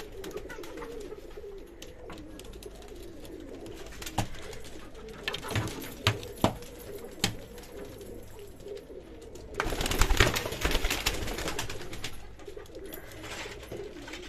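Pigeons coo softly and steadily inside a loft of fancy pigeons for sale, a low continuous murmur with a few louder flaps and rustles and a busier burst of activity toward the end, no talking.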